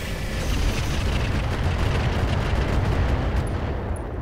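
Dense, continuous weapons fire and explosions in the Roguetech mech combat game, including autocannon, PPC, limpet mine and grenade blasts, a loud, unbroken rumbling barrage with no speech.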